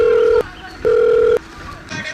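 A telephone rings in two long, loud electronic tones with a pause between, followed by a brief quieter tone burst near the end, with no talk over it.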